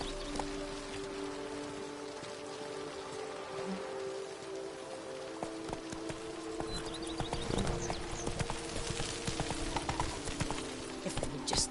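Hoofbeats from Geralt's horse Roach in The Witcher 3: Blood and Wine, a steady clip-clop of galloping hooves under a rain-like hiss, with game music tones and occasional clatter, growing slightly louder toward the end.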